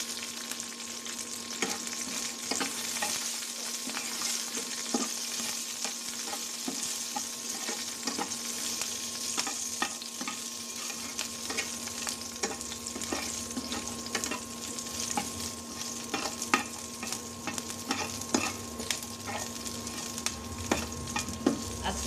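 Dried and green chilies frying in hot oil, a steady bright sizzle with continuous crackle and occasional stirring scrapes, close and loud throughout with no talking.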